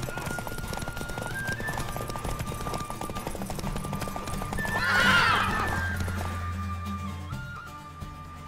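A horse in the Witcher 3 video game lets out one loud, rising whinny amid a steady game soundscape, with a low rumbling drone and faint hoof movement around it.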